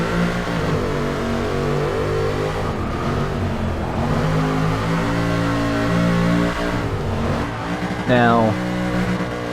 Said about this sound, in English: I ping it off the rev limiter in first